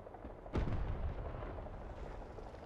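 Tank cannon shot in a video game featuring the Argentine TAM 2 Improved Protection tank, one sudden heavy boom followed by a rumbling tail that fades slowly, moderately loud.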